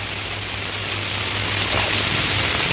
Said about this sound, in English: Well, the rain started.